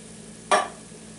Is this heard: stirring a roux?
yes